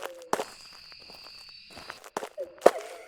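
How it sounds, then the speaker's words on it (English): Ghost footsteps in the horror video game Phasmophobia, heard through a parabolic microphone near a bathroom: a few scattered, muffled thuds with a faint tonal hum running underneath. "I can already hear the ghost's footstep sounds."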